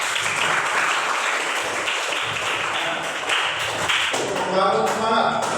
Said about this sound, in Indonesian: Nah, kita tepuk tangan dulu.